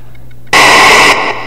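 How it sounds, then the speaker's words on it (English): A handheld radio scanner in sweep mode with poor reception bursts into loud, broad white-noise static that cuts out abruptly, followed by a quieter hiss. No voices. "You'll hear it, the reception here isn't fantastic, but we will get a few channels coming through, and we've got the white noise there as well"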